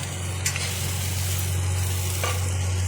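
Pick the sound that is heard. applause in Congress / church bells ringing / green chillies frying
green chillies frying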